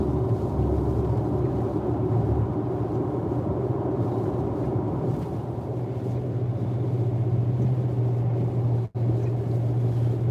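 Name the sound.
Tesla car driving on a rough road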